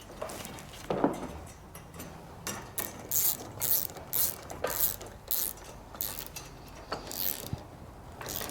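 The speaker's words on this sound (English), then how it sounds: "use a 7/16 socket and tighten these bolts into place" A ratchet with a 7/16 socket tightens bolts on the rear load bar of a truck bed rack on a 2022+ Ford F150 or Raptor, with bursts of rapid clicking strokes repeating close and loud, no voices.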